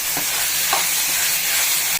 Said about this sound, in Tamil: நல்லா வதக்கிக்கிடலாம்